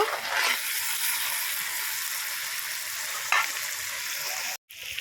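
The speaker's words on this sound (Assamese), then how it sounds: "এইবাৰ ভাজি বহাই দিছোঁ, এয়া বিন গাজৰ ফুলকবি ভাজিখন" A stir-fry of beans, carrots and cauliflower sizzling in a pan, a bright, steady hiss with a couple of brief stirring scrapes and a short gap near the end.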